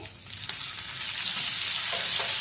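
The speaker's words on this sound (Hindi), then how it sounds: "बहुत हल्का सा भूनना है हमको, एकदम ब्राउन नहीं करना है इसको, प्याज को।" Onions lightly frying in a pan for a dosa chutney, a steady close sizzle with soft crackles and a stirring scrape, loud and continuous with no voices.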